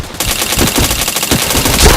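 Rapid automatic gunfire from the PointBlank online shooter game rattles loud and continuous in a dense burst, with no talk over it.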